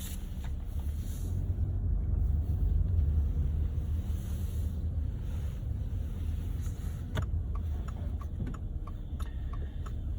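A 2024 Subaru Crosstrek Onyx drives along with a steady low rumble of engine and road noise heard from inside the cabin, with a few faint ticking clicks and no talking.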